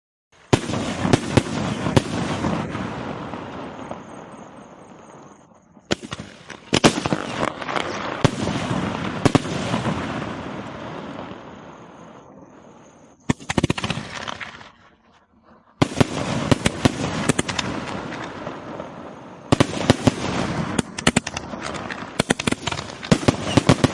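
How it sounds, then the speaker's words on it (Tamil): Skyshot fireworks fired from a 3-inch pipe, four shells set to shoot six times, boom outdoors in loud repeated bursts with crackling tails, separated by short near-silent gaps between volleys. "இது ஃபுல்லாக பார்த்தீங்கன்னா 3 இன்ச்சு பைப்பு. 4 வெடியாக பார்த்தீங்கன்னா 6 டைம் அடிக்க போகுது."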